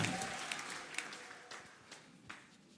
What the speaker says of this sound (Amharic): እስቲ ለጉባኤው ጭብጨባ ስጡ